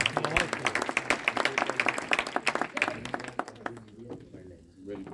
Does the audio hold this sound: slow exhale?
no